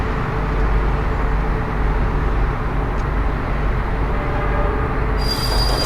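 Trains run on a railway in the game Workers & Resources, with loud metallic wheel squeal and rumbling railcars rolling continuously, and a brighter screech rising near the end.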